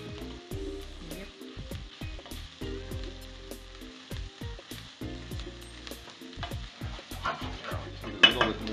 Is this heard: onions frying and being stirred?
yes